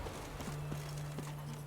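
Horse hooves clip-clopping in The Witcher 3: Wild Hunt, a few soft distant steps over a low steady hum, brief and faint.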